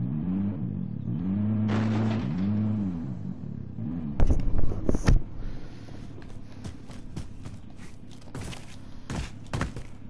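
A car driven in the Warzone battle royale game, its engine droning and revving up and down, then thumps and clunks as it rolls over rough ground, with sharp knocks scattered through the later part.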